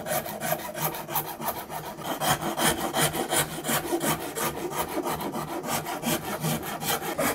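A wood rasp rakes padauk from a custom guitar body in fast, rhythmic back-and-forth strokes, a close, raspy scraping that keeps a steady pace throughout with no voices.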